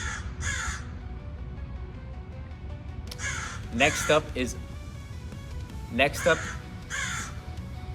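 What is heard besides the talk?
crow cawing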